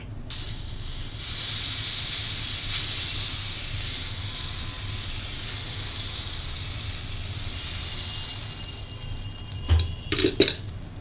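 Dosa sizzling on a hot pan, a steady broad hiss that carries on for several seconds, then a few clanks and scrapes near the end as it is flipped.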